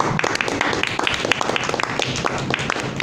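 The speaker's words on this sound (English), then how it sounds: "Let's give him a round of applause." A room of attendees at a Metro Manila Toastmasters club meeting claps for the table topics master, with close, sharp individual hand claps forming a brisk, uneven round of applause.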